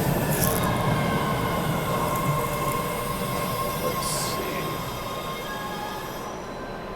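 A train rumbles steadily with low, continuous rail noise and faint high squeals, while a person speaks briefly nearby.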